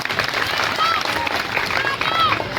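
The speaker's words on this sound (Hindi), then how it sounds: "मैं चाहूंगा एक बार तालियों से उनका स्वागत जरूर किया" An audience at a Navratri festival applauds to welcome the local MLA, a dense, steady clapping that lasts throughout at moderate loudness, with a voice heard over it.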